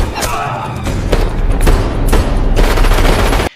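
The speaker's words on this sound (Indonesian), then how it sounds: "Bill menembak salah satu dari mereka." Heavy gunfire from a mafia shootout in the 2013 film The Family: loud, dense bursts of shots and booming impacts that continue for several seconds, then stop abruptly.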